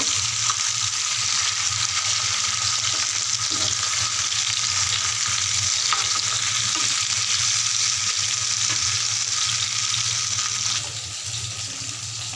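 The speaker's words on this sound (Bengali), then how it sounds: "কই মাছগুলোকে আমি হলুদ লবণ মাখিয়ে ফ্রাই করে নেব" Koi fish coated in turmeric and salt fry in hot oil with a loud, constant, close crackling sizzle, steady throughout and easing slightly toward the end.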